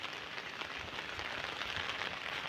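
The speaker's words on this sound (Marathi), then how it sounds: "पाऊस पण अचानक येऊ लागलो आहे बघा" Sudden rain falls outdoors near a forest hamlet, giving a dense, steady patter and hiss with no breaks over a few seconds.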